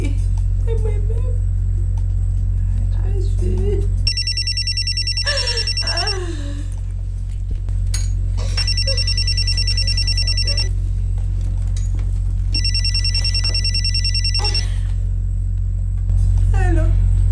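A telephone rings in three repeated bursts of a high electronic trill, each lasting about two seconds, over a steady low rumble, with faint voices and background noise between the rings.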